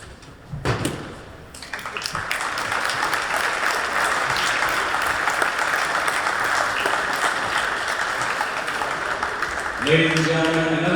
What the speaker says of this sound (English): Ladies and gentlemen, another big round of applause for Leo DeSimone and all of his contribution